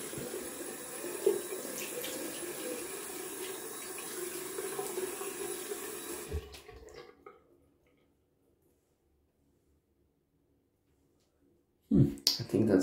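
Cold water runs from a sink tap in a steady broad wash for about six seconds, then stops into near silence before a brief burst of splashing or handling noise at the end.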